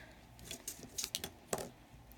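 Several light, sharp clicks and taps scattered over about two seconds as scissors are flicked out and skitter and bounce across a table, quiet and close.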